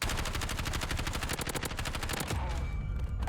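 Rapid automatic fire from a Kilo 141 assault rifle in the Call of Duty Warzone firing range, a dense string of loud cracks lasting most of the moment before cutting off into a short tail.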